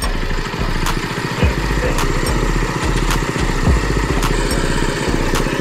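A Texas Lilli 832 TG farm tractor engine runs close by with a loud, chugging, rhythmic putter and rises briefly in pitch as it is revved, with no talking.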